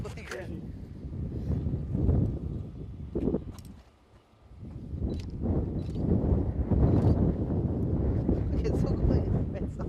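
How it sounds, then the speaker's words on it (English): Gusty wind buffets the microphone outdoors at a wine-country tasting, a steady low rumble that drops away briefly mid-way before surging back, with people talking under it. "The wind is just blowing?"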